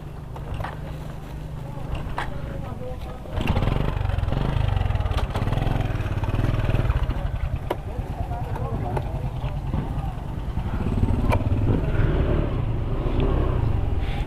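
A Honda Click 125 motorcycle rolls into a port toward a RoRo ferry, its engine a steady low rumble with road noise throughout, while people talk over it.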